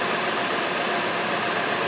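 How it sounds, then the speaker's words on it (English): The air conditioning compressor on a 2009 Honda Pilot runs with the engine idling, a steady, dense mechanical hum and whir heard close up, unbroken and without voices. "There's the compressor."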